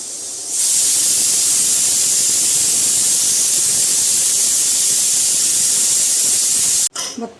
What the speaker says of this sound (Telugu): ఆవిరి అనేది ఇందులో నుండి వచ్చినట్టుగా ఉండాలా.